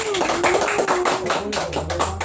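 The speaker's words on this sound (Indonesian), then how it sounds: "berikan tepuk tangan kepada kelompok manusia" A classroom group claps hands in a short burst of quick, uneven claps, with voices talking over it.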